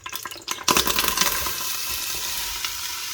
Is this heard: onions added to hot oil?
yes